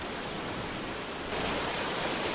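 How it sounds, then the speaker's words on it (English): Steady broadband rain hiss in the storm-chasing game Twisted, constant and fairly loud, jumping abruptly louder partway through as if the downpour cuts in and out. "Yeah, the rain's kind of weird."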